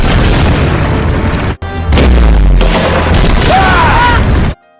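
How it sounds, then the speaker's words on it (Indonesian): Heavy booms and blasts of gunfire and explosions hitting a ship in quick succession, loud and close, with a brief gap between bursts before the rumbling cuts off abruptly. "Tembakan pun terus dilancarkan ke kapal Thomas."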